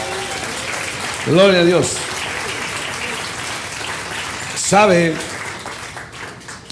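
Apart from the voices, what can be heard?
church congregation applause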